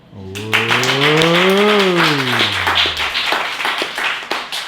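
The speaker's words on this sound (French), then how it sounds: "C'est vrai qu'il faut m'applaudir." An audience claps at a French slam poetry event, quick close applause opening with a loud rising-and-falling vocal cry, then steady clapping that continues to the end.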